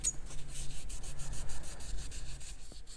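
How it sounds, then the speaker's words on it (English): A pro polishing pad rubbed over patinated copper, making a steady, rhythmic scrubbing with quick even back-and-forth strokes, close and soft, with no talk. "And then I'm going to try the pro polishing pad."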